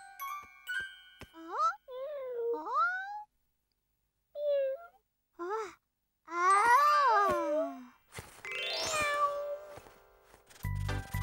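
A cartoon cat meows several times in a row, clear rising and falling cries with short pauses between them, ending with a bright chiming sound.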